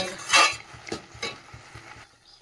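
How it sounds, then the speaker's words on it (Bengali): Carrot halwa stirred in a pan with a spatula, a few soft scraping strokes and light clinks close by, fading toward quiet at the end. "সারাক্ষণ খুন্তি দিয়ে নাড়িয়ে রাখতে হবে।"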